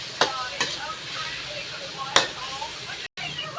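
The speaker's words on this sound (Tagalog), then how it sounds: "Ilagay na rin natin yung ating pangsahog na hipon. Saka natin haluin." Shrimp go into a pan of coconut-milk vegetable stew and get stirred, a low sizzle with several sharp scraping clacks of a utensil, close by and fairly loud, with a brief dropout near the end.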